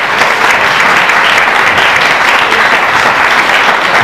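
An audience applauds at a public talk on end-of-life care, with loud, dense, steady clapping that fills the whole stretch without voices over it.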